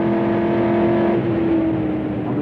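A race car accelerates on a track, a loud steady engine drone with a rising whine heard from inside or close by, continuous throughout.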